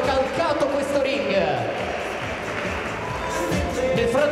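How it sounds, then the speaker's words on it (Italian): Crowd applause with some cheering for the boxers after an early bout at an American Fight Night boxing event, a steady wash of clapping that holds at a constant level throughout and rises slightly toward the end. "applauso a questi ragazzi che per primi questa serata hanno calcato questo ring."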